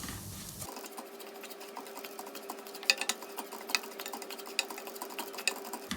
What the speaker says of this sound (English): I have been roasting this rava for 5 minutes by continuously stirring it on a low flame